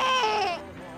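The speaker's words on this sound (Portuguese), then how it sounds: "Também existe o som é, que quer dizer que o bebê sente algum desconforto." A baby makes a short fussing cry meant to signal discomfort; a single strained, wavering wail lasts about a second, loud and close, then trails off into a softer whimper.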